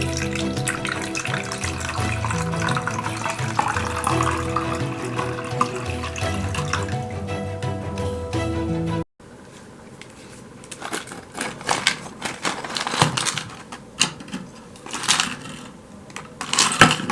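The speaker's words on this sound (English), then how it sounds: "now I'm going to add water and ice" Water and ice are poured into a container with a hole hammered in its top, first a steady rushing pour, then after a brief break scattered clinks and splashes of ice.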